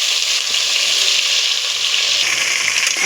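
Onions, mint and green chillies fry in a pan for chicken biryani, giving a steady, close, loud sizzle that hisses without pause and has no talking over it.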